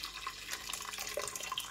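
Hot garlic and ginger water is poured into a chicken karahi, a faint, close, bubbly trickle of liquid that runs continuously for a moment without any talk.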